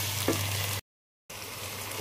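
Onions and green chillies frying in hot ghee with salt in a home kitchen, a close, steady sizzle that cuts out briefly to silence before resuming.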